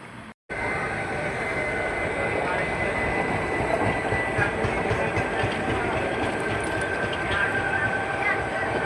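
Another train passes alongside during a crossing on the Bhuj to Rajkot special train journey, a steady loud rumbling roar of wheels and carriages that continues throughout after a brief cut.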